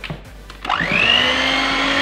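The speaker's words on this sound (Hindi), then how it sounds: "जब आप मैदा डालेंगे और आपने ये एग बीटर से मिक्स करेंगे, तो फिर आपने स्लो स्पीड पर मिक्स करना है" After a few light knocks, an electric egg beater whirs up to speed with a rising motor whine, then runs loud and steady, close by, while mixing cake batter with maida flour.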